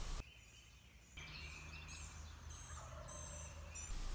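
A wild turkey gobbles from the roost on a spring morning in Missouri, a distant rattling call answered among faint birdsong in quiet woods.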